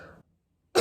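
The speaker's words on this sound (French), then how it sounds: "ça me donne envie de tousser" A single sharp cough rings out up close right after a voice trails off into a moment of silence.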